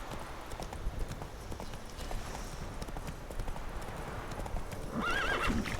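Horse hooves clip-clop in a steady rhythm in The Witcher 3: Wild Hunt, ending in a clear whinnying neigh near the end, fairly faint overall.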